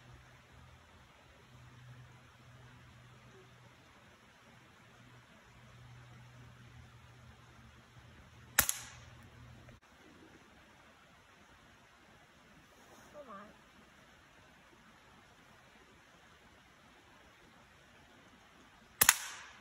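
A BB gun fires outdoors at a winter cabin: two sharp, isolated pops about ten seconds apart over quiet ambient hiss, with a faint low hum early on and a soft thud between.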